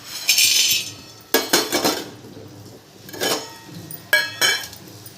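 Dried urad dal kurvadya roasted in a pan, stirred in bursts: a spoon clatters and scrapes against the metal in short loud clusters separated by quiet gaps, no voices.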